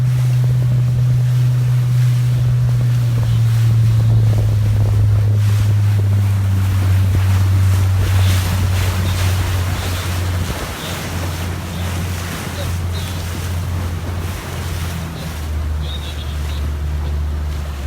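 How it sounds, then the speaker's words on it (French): Strong wind buffeting the microphone at sea during a sailing regatta off Antibes, a loud continuous roar with waves and a low engine-like drone throughout. "désolé pour le vent"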